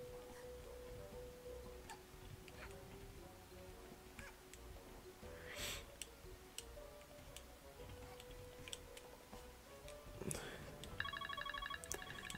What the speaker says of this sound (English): I got a text message